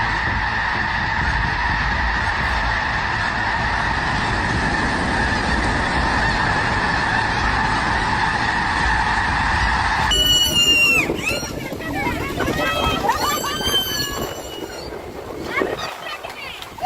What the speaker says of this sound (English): thousands of snow geese take to the skies,